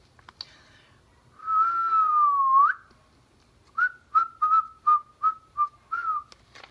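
Someone whistles a long wavering note, pauses, then whistles a run of short, evenly spaced notes, clear and close with no talking.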